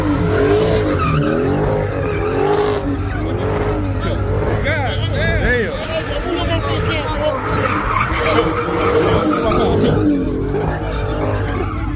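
At a car meet a Mopar car spins its tires, engine roaring and tires squealing loud and continuous throughout, with voices faintly underneath.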